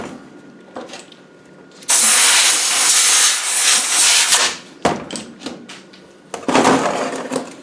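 Compressed air blasts sand out of an Adwest lightweight TDCi steering box in loud, close hissing bursts, one long gust followed by shorter puffs, with light clatter between them.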